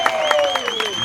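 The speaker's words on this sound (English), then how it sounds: "One more round of applause for Kathy." Brief burst of audience applause at an outdoor Harwich town band concert, dense clapping over a sustained tone with a voice speaking over it.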